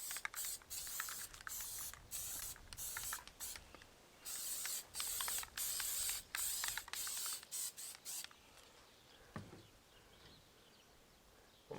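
Gel gloss multi-surface polish sprayed onto a Weber kettle grill, a quick series of close, sharp aerosol bursts in an uneven rhythm, some short puffs and some longer hisses, then quieter handling sounds.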